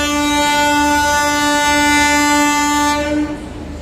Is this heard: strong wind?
no